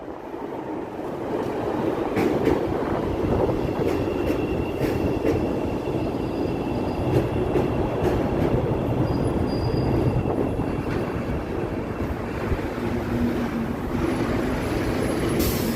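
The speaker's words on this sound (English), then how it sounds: "Here comes the train. You hear it?" A train rumbles past on rails in Chicago near Michigan Avenue for a sustained stretch, loud and close, with steady clattering wheels and occasional metallic squeals.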